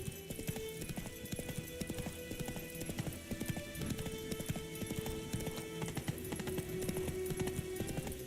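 Hooves of Roach, the horse in the video game Witcher 3, clip-clopping in a fast steady gallop rhythm throughout, close and clear with a faint background hum.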